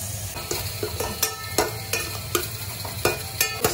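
A utensil stirs tuna curry with onion, turmeric and chili powder in a sizzling pan, giving regular close scraping strokes about every third of a second over constant frying hiss, with no talking.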